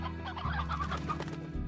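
Chickens cluck in the Slime Rancher video game, a short burst of close, busy hen calls over a steady low game hum.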